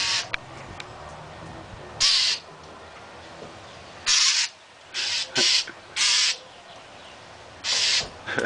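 A wild bird makes repeated harsh, raspy calls while trying to attack a person, several bursts in an irregular rhythm, close and fairly loud over outdoor background noise.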